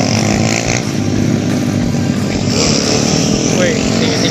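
A Honda CRF dirt bike revs loud and close during wheelie practice, its engine note rising and surging with rough, throaty pulses, and voices come through over the noise.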